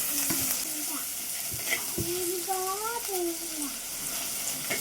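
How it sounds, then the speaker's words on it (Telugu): Tomatoes hit hot oil in a clay pot of mutton gongura curry, giving a steady close sizzle with stirring scrapes and a few brief tonal squeaks, no talking. "ఈ టమాటాలు కూడా వేసేసుకుందాం."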